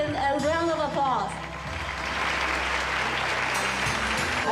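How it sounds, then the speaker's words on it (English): A school-project gathering breaks into steady crowd applause that carries on to the end. A voice is heard over it at first, and the clapping is moderately loud and even. "Please give him a round of applause."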